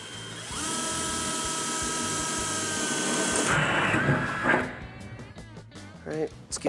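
A power drill whines steadily for about three seconds while drilling for suspension brackets on a Chevy S-10 truck, then stops, followed by clattering and handling noises.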